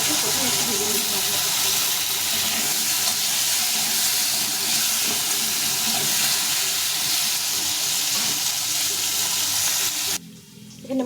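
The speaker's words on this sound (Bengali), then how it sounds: "আলুটাকে প্রথমে একটু ভেজে নিতে হবে।" Potatoes fry in a hot pan for a Bengali fish curry, giving a loud, continuous sizzle and hiss that holds steady close up, then drops away abruptly near the end.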